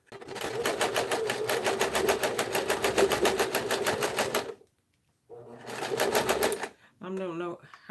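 A sewing machine stitches fabric in a fast, steady mechanical whir for about four seconds, stops, runs again in a shorter burst, and then a voice speaks briefly.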